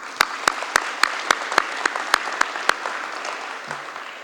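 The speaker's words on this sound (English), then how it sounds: "Please give them an applause." An audience at Omni Helicopter Guyana's one-year anniversary celebration applauds the staff and ground crews. One person's loud, steady claps ring out at an even pace over a dense wash of crowd clapping that fades near the end.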